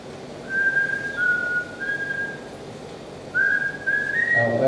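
A park ranger in the Colombian Andes whistles to call birds in short, level, sustained notes, two groups separated by a pause, over a soft outdoor background hiss.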